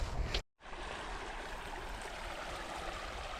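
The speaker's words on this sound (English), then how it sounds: "Flowing water." A small stream flowing beside a hiking trail in Jonathan Dickinson State Park, Florida, a continuous soft rushing and gurgling of water heard alone at a quiet level, with a brief dropout near the start.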